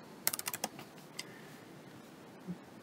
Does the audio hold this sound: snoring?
no